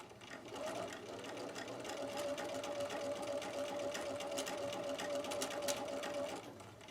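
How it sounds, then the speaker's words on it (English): A sewing machine stitches a seam in silk organza, starting with a short burst and then running in a steady, fast mechanical whir for several seconds before stopping. "now I'm going to go along, stitching my seam, taking the pins out as I go"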